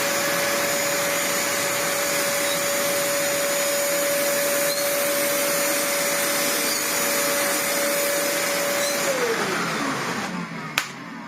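A Vax Platinum Power Max carpet washer runs with a loud, steady motor whine and airy suction roar, close by and alone, then winds down in pitch near the end before a brief click.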